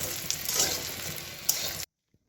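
Milk tea simmering on a home stove, a steady close bubbling sizzle with faint stirring clinks, running continuously and then cutting off abruptly into silence.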